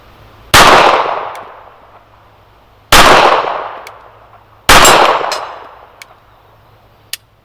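Three loud, sharp pistol shots from a Browning Black Label .380, a 7/8-scale 1911, fired on an outdoor range at a steel target, spaced a couple of seconds apart, each with a decaying ring and a faint ping of impact.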